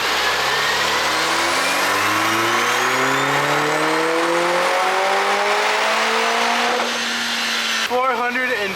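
A Lotus Emira engine with a JB4 Map 1 tune on 91 fuel sweeps up through its revs on a dyno, a loud, sustained rising pitch that climbs for about seven seconds, then drops off sharply into a brief burbling lift-off.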